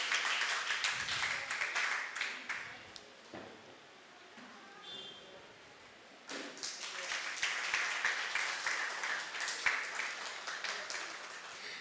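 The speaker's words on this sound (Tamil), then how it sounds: "அவங்களுக்கு ஒரு மிகப்பெரிய கைத்தட்டல் கொடுத்துடலாம்." Audience clapping at an Easter song service in a church: applause from a gathered crowd swells, dips for a moment to near quiet, then rises again and carries on steadily, with faint voices beneath.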